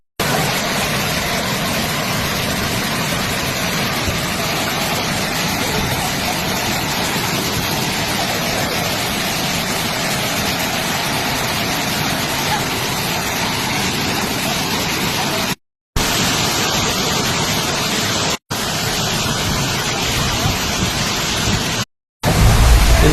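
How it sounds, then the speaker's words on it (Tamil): A small waterfall in the Kolli Hills, swollen after rain, roars with fast-flowing water in a steady, loud, broadband rush that fills the whole clip, broken only by a few brief cuts near the end. "மழை பெஞ்சதால் இங்கே பார்த்தீங்கன்னா தண்ணி ரொம்ப வேகமாக வருது"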